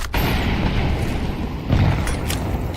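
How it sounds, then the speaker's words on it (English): Two heavy grenade blasts go off in a video game, a sharp boom at the start and a deeper, louder one about a second and a half later, each trailing into a rumbling tail. "Throwing a grenade."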